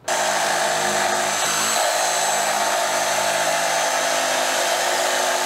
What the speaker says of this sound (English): this piece needs to be trimmed just a little bit so that it can fit between the other two panels, so I'm just gonna hit it with my jigsaw